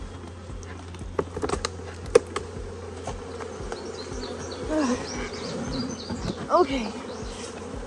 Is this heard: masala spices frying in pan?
no